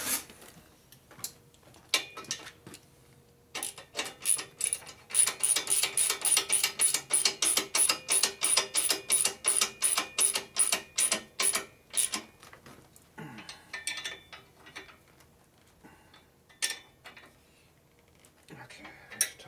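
A half-inch ratchet wrench clicks steadily on a bolt during a 2001 Indian Scout 88ci big-bore S&S motor rebuild, giving a close, fast run of about twenty even ratchet clicks, with scattered metallic clinks of tools before and after.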